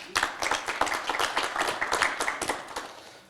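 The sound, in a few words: audience applause for a speaker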